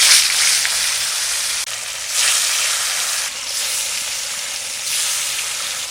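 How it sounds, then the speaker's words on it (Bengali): Rohu fish frying in hot oil in a wok, a steady loud close sizzle and hiss that swells in waves as the pieces shift, with no talking. "মাছটা ভাজবো এবার, আর এদিকে মশলা করব"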